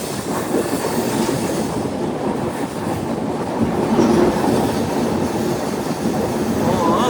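Passenger train rolling across the Godavari river bridge at Rajahmundry, heard from inside a carriage: a continuous loud rumble and rattle of wheels on the bridge, steady throughout with faint squeals.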